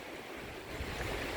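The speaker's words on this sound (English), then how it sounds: "Beautiful day here, but windy, northeast." Northeast wind and surf at Swivel Point on a bright, windy day, a steady broad roar of waves with wind buffeting the microphone, no voices.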